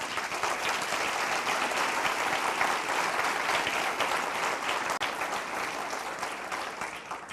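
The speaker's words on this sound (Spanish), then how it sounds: "¿Le das un aplauso al Señor?" A church congregation gives a sustained, even round of applause to the Lord during a worship service, with dense clapping filling the room and barely any voices.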